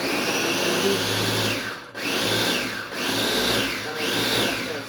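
A kitchen blender churns chicken feed with a little water, a loud continuous whirring grind that briefly dips three times as the blades bog down and recover, with no talking.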